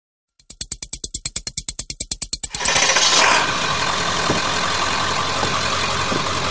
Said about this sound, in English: Introducing the UNDERHOOD VR70 Air Power Compressor System.